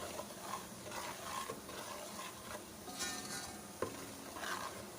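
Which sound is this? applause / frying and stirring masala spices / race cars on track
frying and stirring masala spices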